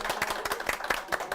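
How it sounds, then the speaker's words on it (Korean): Brief, quick clapping from a small audience welcoming the guest CEO of a biotech company onto a Korean talk program, with rapid uneven claps over a short burst. "박수 부탁드리겠습니다."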